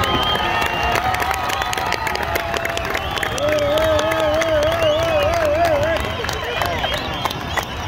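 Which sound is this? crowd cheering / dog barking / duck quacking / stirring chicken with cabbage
crowd cheering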